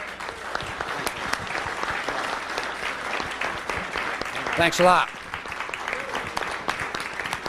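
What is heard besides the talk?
audience applause for a speaker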